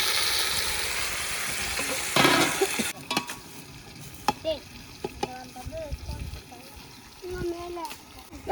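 Chopped tomatoes tipped into onions browning in hot oil, giving a loud burst of sizzling that then settles into spoon stirring and scraping over gentle frying, with people talking nearby.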